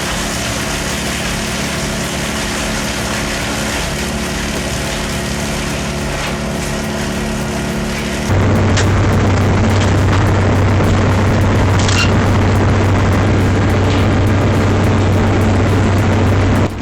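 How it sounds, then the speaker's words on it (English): A wood chipper powered by a 213 horsepower Cat diesel engine runs with a loud, steady, broadband mechanical roar. Partway through it shifts to a heavier, deeper drone with a strong low hum and occasional sharp cracks as material is fed through. "Under the hood, a powerful 213 horsepower Cat diesel engine delivers massive torque, letting the feed system just inhale whole trees"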